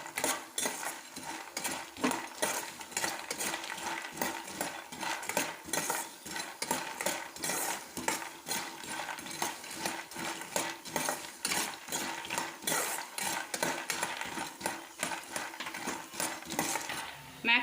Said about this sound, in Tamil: மேக்ரோனியை நல்ல நெய்யில் வறுத்தாச்சு.